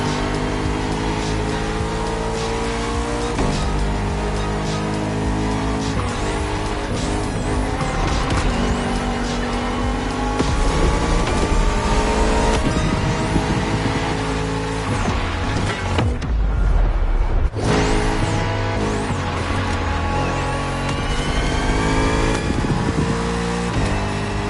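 Bugatti Vision GT supercar engine from a video game, revving loudly and steadily with rising and falling pitch, plus brief tire squeal, dropping off for a moment near the end before roaring back.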